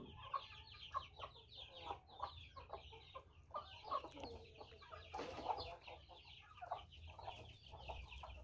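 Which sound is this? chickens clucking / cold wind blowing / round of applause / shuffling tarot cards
chickens clucking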